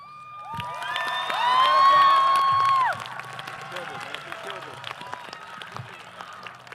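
Graduation ceremony crowd at the WTHS class of 2023 commencement, applauding and cheering for valedictorian Brian Ahn; loud mixed cheers and whoops swell for about three seconds, then give way to steady scattered clapping.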